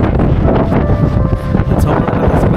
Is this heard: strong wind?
yes